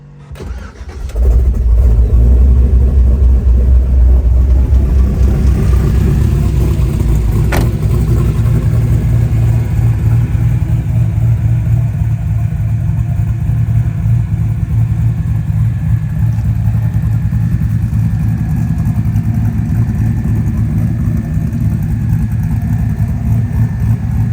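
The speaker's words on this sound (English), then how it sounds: "I'll give you a start up, let you hear it." An LS V8 engine in a one-ton Jeep cranks and catches, then settles into a loud, steady, rumbling idle that carries on uninterrupted close to the listener.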